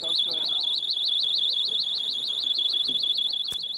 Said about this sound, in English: police handed out thousands of pocket alarms on New Year's Eve